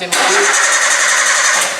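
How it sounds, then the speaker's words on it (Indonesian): A car's starter cranks the engine steadily for nearly two seconds in a workshop test of a car that will not start; the whirring grind is loud and continuous and never catches into running. "berkali-kali di starter masih tetap tidak mau hidup"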